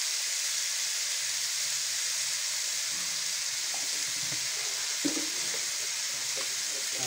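Turmeric, chilli, salt and spices fry in a pan for a pumpkin dish, a constant bright sizzle with occasional spoon scrapes and clinks as they are stirred.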